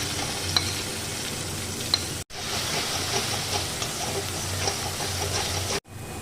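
Ground chicken paste frying in mustard oil over browned chopped onion. A loud, continuous close sizzle and hiss fills the whole stretch, broken by two abrupt cuts to near silence.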